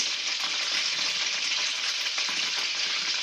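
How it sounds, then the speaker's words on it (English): Cherry bacon frying in butter in a hot pan at Christmas, giving a loud, steady, close-up sizzle with crackling pops throughout and no talking. "And now we want to cook these bacons, these cherry bacons."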